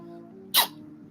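A single short, sharp sneeze bursts out close up over a quiet, faintly humming room.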